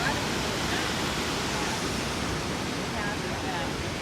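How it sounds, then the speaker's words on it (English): Toketee Falls, a double waterfall near Crater Lake in Oregon, roars as a constant broadband rush of falling water, steady and even from start to finish with no pauses. "It's a double waterfall."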